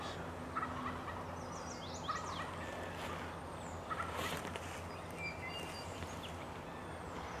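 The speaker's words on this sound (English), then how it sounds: "I've never heard a turkey do this." Wild turkey gobbling and calling in Maine woods during a spring hunt, several distant gobbles and chirps rising faintly over a steady outdoor hum and rustle.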